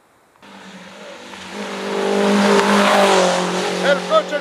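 A rally competition car approaches on a special stage of the Cerro Azul rally at Quilmana, its engine rising to a loud, close roar with revving and brief tire squeals as it passes.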